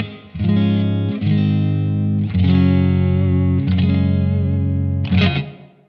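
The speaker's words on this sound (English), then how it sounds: "there's a reverb switch. There's built-in reverb." An electric guitar plays sustained distorted chords through a Blackstar AMPED-1 pedalboard amp with its built-in reverb, a few strums ringing out with lush chorus-like shimmer before fading at the end.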